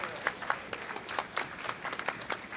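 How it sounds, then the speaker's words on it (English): An audience applauds the Veterans for Peace singers at a Hiroshima remembrance event, with scattered and fairly soft clapping and a few sharper claps nearby. "Let's give them a big round of applause as well"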